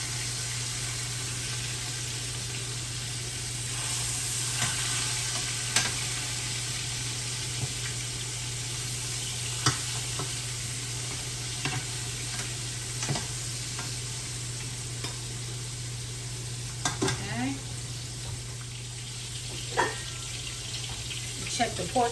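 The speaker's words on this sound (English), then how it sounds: "I'm going to check the pork chops, see if I can turn them. I want a golden sear." Pork chops sear in a hot pan with a steady, close hiss of frying. Faint clinks and taps come through a constant background hum.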